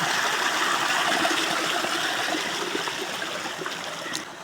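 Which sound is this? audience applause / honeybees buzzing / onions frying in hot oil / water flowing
water flowing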